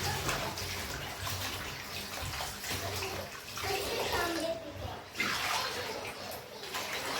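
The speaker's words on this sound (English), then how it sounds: "I like to wash my meat several times to ensure that it is all clean." Chicken feet being washed by hand under running tap water, a steady close splashing and sloshing stream filling the whole stretch, with water hitting the meat and basin.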